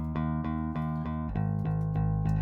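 A clean, direct bass line: steady plucked notes with a tight, even attack, dry and close with no room sound, shifting to a lower note midway.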